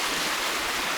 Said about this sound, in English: So that's the river now. Or the small creek here.